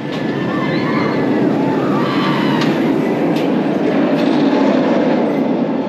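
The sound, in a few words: Shambhala B&M hyper roller coaster train at PortAventura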